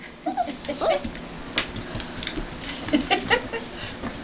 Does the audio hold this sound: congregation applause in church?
no